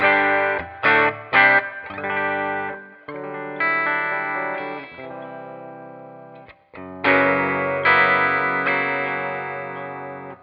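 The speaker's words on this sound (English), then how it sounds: "Here I'm with my Gibson Les Paul Jr., a single P90 in the bridge." A Gibson Les Paul Jr. with a single bridge P90 pickup, played clean through a Tonex pedal: bright strummed chords and short ringing stabs, then longer sustained chords, loud and upfront with brief gaps between phrases.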